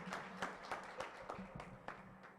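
A few scattered hands clap for a speaker at a youth cybersecurity training program launch in Kenya. The claps are faint and distant, with sharp hits spaced irregularly over a quiet room.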